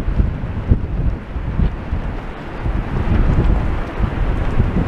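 Strong wind gusts buffet the microphone along a seaside promenade in January, a loud, continuous low roar that swells and dips without pause, with no voices.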